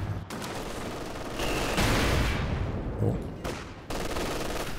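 Machine gun fire from a vehicle in a Company of Heroes 2 battle, sustained loud rattling bursts layered over dense battlefield explosions and rumble, with brief dips before the firing resumes.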